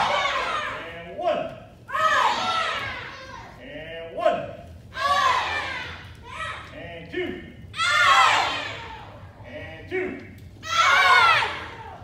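Several children shout loudly in unison during a martial arts punching drill, with repeated bursts of yelling in a steady rhythm across the count.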